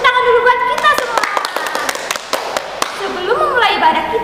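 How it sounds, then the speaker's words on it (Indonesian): Scattered handclaps from a youth church service congregation: a dozen or so sharp, uneven claps rattle out in a short burst, mixed with and followed by people speaking. "Tepuk tangan dulu buat kita semua"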